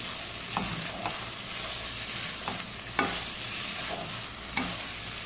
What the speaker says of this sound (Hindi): अदरक लहसुन का पेस्ट हमारा प्याज के साथ फ्राई हो चुका है